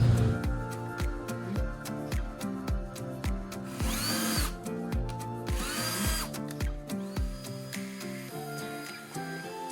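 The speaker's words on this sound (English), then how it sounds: "I have to use a 5/16 drill bit." A power drill with a 5/16 bit whirs and pulses steadily up close, with rhythmic grinding as it works through plastic, loud and continuous.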